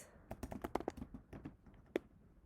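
Someone types on a computer keyboard with a quick, irregular run of close, crisp keystrokes, ending in one louder tap after a short pause.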